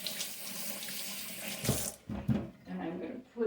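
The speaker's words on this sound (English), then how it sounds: "now I rinse my hand" A kitchen tap runs steadily while hands are rinsed under it, with the splashing shifting and breaking up as the hands move through the stream.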